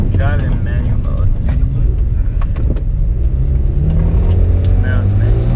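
A bolt-on modified BMW 335is with an inline-six engine, driven in manual mode, accelerates with a loud steady engine drone that rises in pitch, heard from inside the cabin, with people talking over it.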